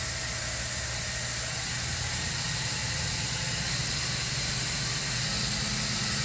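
Omniturn GT-75 Series II CNC gang lathe from 2014, spindle running at 1000 RPM at 50% speed: a steady, loud machine hum with a constant airy hiss throughout, no voices.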